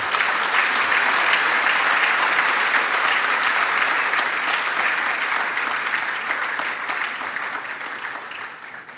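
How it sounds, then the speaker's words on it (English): A large audience applauds steadily to welcome a speaker at a university e-learning week event, a dense, sustained round of clapping that gradually fades toward the end. "help me with a very large round of applause"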